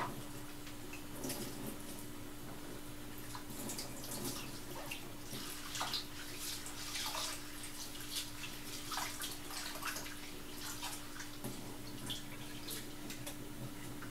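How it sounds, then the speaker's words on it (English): Rice being rinsed under running kitchen water, a steady quiet hiss of flowing water with soft irregular splashes and swishes from the grains being stirred, continuing for the whole stretch with no talking. "I'm just washing off the rice really good."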